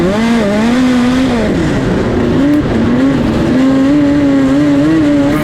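A midget race car engine roars loudly and continuously, its pitch dipping and climbing as the throttle eases off and opens back up.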